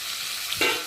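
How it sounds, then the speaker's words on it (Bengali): A spice paste of tomato, ginger and cumin hits a hot pan, giving a short burst of close sizzling and stirring that starts abruptly after a quiet moment. "মশলাটা খুব সুন্দরভাবে কষিয়ে নেব যতক্ষণ না মশলার একটা গন্ধ বেরোবে ভাজা ভাজা"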